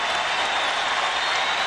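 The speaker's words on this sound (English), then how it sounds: "Standing ovation in Orlando." An arena crowd at an NBA basketball game in Orlando gives a standing ovation, with dense, sustained applause and cheering filling the space evenly throughout.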